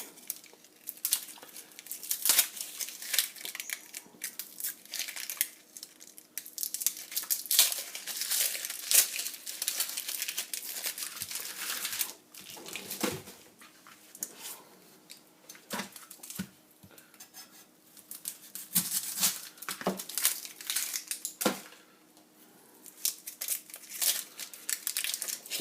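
Papery skin being peeled off onions in a kitchen, a continuous close crinkling and crackling with occasional sharper tearing snaps.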